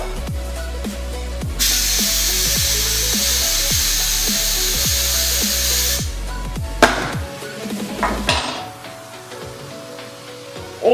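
A spinning metal fidget spinner pressed against the buttons and front of an iPhone 6s, giving a loud, close, high whine with grinding scrapes and repeated rhythmic ticks, then sharper scraping and rattling toward the end, with no talk.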